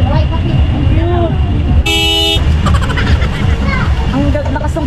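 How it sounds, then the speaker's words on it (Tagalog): A loud car horn blasts once in a sustained toot close by on a busy Davao City street, heard over traffic rumble and people talking nearby. "Ang lakas ng busina ni sir."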